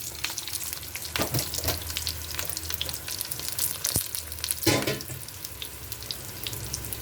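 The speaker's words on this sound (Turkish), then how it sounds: "Evet bir yandan patlıcanlarımı kızartıyorum." Close, continuous sizzling and crackling of eggplant frying in hot oil, with a few louder spits and bursts, no voices.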